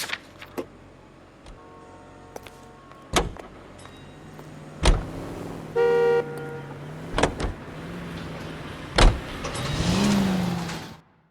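A car in LA Noire gets under way with door thuds, a brief electric whir and a low engine rising toward the end, several sharp knocks spread through it.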